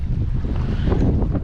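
Strong wind buffets the microphone in a low, steady rumble, with a faint watery wash beneath it, while crappie fishing over a school of fish.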